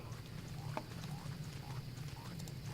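Frogs croaking in the game Don't Starve: Reign of Giants, with several faint, short rising croaks spaced at a steady rhythm over a low, constant ambient drone.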